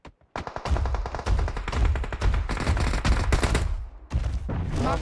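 Rapid automatic gunfire in PUBG Mobile, close and loud, with dense bursts of shots rattling almost continuously after a brief opening pause, then a short gap before firing resumes.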